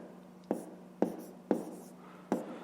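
Pen or chalk tapping and scratching numbers by hand during a fifth-grade math lesson on comparing fractions: four short, sharp strokes about half a second apart, close and moderately loud over a faint steady hum.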